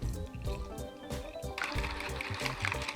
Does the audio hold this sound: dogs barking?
no